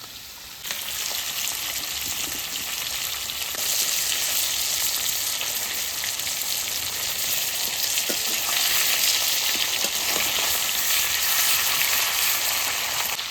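Hilsa fish heads fry in hot oil with a continuous, loud, crackling sizzle that swells slightly midway, with a few faint clicks of a utensil. No one speaks.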